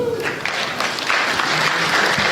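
A conference audience at a pitch-challenge prize announcement breaks into steady applause, a dense crackle of many hands clapping at moderate loudness throughout.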